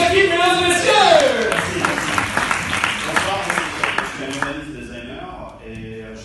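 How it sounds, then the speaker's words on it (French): A crowd applauding each team at a climate resilience challenge event, a dense patter of clapping that swells near the start and then thins and fades, with a voice speaking over the first moments. "On applaudit chaque équipe, mesdames et messieurs."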